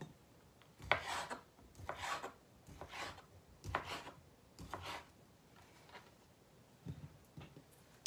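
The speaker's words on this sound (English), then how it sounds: "I'm just cutting them into rounds" A knife slices pork and beef sausage into rounds on a cutting board, giving a steady series of close, crisp strokes about once a second.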